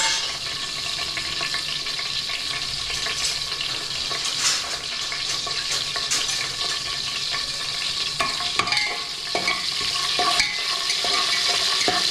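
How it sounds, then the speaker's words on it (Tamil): Cinnamon, cardamom, fennel and bay leaf sauté in hot oil and ghee for ghee rice, producing a loud, close, steady sizzle with occasional stirring scrapes. "இதில் பட்டை, ஏலக்காய், கொஞ்சம் சோம்பு, பிரியாணி இலை இதை இந்த எண்ணெய் நெய்யில் போட்டு வதக்கிக்கலாம்."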